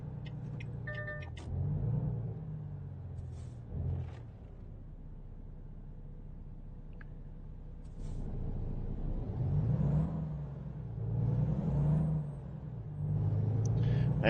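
Truck engine in American Truck Simulator, driven without a trailer, a steady low rumble with several swelling revs as it accelerates and shifts, heard alone and fairly quiet throughout.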